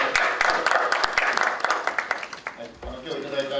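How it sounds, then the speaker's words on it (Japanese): Attendees at a Japanese political party meeting clap together in thanks, a brisk round of applause that thins into a few scattered claps as a voice begins speaking over it. "全体で拍手で感謝したいと思います"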